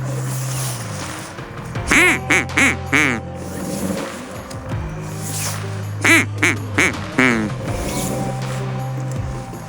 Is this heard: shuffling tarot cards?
no